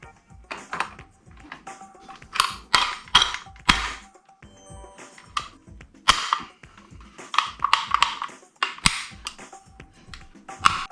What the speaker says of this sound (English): First of all, I need to install the magazine inside. And now I install the trigger group.